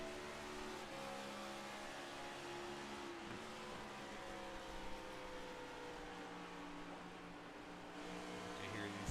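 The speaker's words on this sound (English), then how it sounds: "You hear these guys downshift going into the corner" NASCAR race cars in the Cracker Barrel 200 at Nashville drop gears into a corner, their engine tones stepping down as a steady roar holds throughout, heard at moderate distance behind talk.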